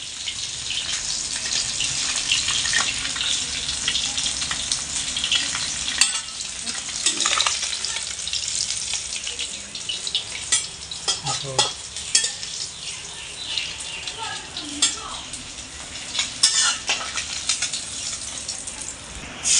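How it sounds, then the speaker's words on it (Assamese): Half-fried fish in oil sizzles steadily in a pan while being stirred and scraped, a constant crackling hiss with intermittent utensil knocks, close and fairly loud. "মাছখিনি চাবচোন হাফ ফ্ৰাই কৰা হৈ গ'ল আৰু এতিয়া এয়া চৰিয়াত নমাই দিবগৈ"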